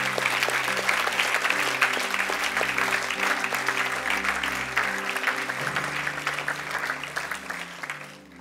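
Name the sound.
congregation applause and acclamation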